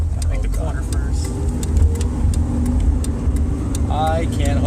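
A turbocharged car's engine drones steadily and loudly from inside the cabin as it pulls under boost, a continuous low rumble with people talking over it throughout.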